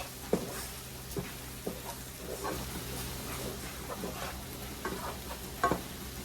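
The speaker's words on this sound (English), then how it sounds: "Give this a mix before anything cooks incorrectly." Food cooks in a pan while being mixed, a soft steady sizzle broken by scattered scraping and stirring knocks.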